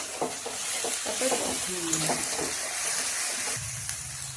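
Spice paste for a Bengali-style egg malai curry sautéing in a pan: a continuous bright sizzle with soft scraping stirs and faint voice-like murmurs underneath.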